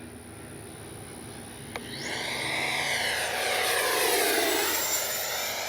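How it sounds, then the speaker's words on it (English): A Freewing 80mm F-5 Tiger II RC jet makes a fast low pass down a runway. Its ducted-fan roar swells from a faint hiss to a loud, sweeping whoosh, then eases off slightly as it goes by, with no voices. "We're gonna make one fast pass right down the runway."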